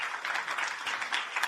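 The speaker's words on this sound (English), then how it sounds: "How about a round of applause for them?" An audience at a conference on asylum governance applauds a panel, a brief, fairly quiet burst of many hands clapping together.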